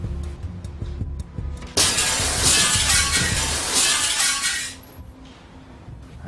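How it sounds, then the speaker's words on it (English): A thrown object smashes through a glass window in an urban flood disaster setting, a sudden loud shattering crash followed by several seconds of tinkling, falling shards that fade out. "I just want to cover my eyes, and hopefully I won't get any glass on my clothing."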